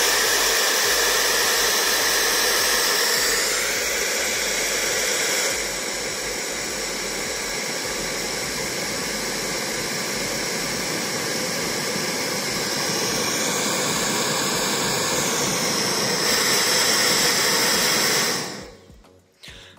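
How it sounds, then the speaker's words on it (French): A hair dryer blasts air onto a barbecue to get the charcoal going, a loud steady roar with a shifting whine that runs unbroken for many seconds before cutting off abruptly at the end. "tu prends un sèche-cheveux et c'est parti"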